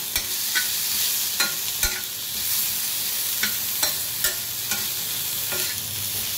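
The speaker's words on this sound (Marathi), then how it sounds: "आपल्याला आता तेल न घालता हे व्यवस्थित भाजून घ्यायचे" Dried Bombay duck fish is dry-roasted in a pan without oil, with a soft, steady sizzle and a series of sharp spatula scrapes and taps at irregular intervals.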